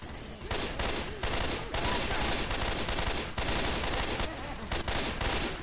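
Turret gunfire in Left 4 Dead 2 on a custom Helm's Deep map, a loud, continuous barrage of rapid shots with only brief breaks, with no clear talking.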